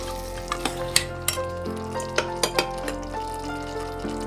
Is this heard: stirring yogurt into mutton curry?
yes